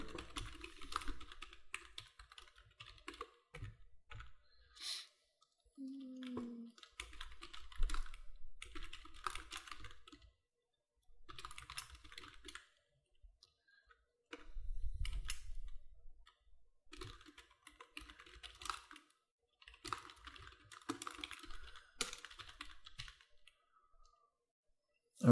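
Someone types on a computer keyboard while entering a category name, in quiet, intermittent bursts of soft key clicks separated by short pauses.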